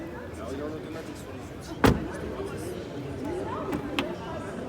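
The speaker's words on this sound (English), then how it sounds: "the doors are definitely opening a bit hard" A 2025 Citroen C3 facelift car door, stiff to open, thuds shut once with a sharp bang, then a second lighter clunk follows, amid faint background chatter.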